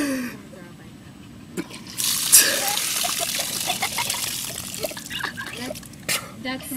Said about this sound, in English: That was so much puke.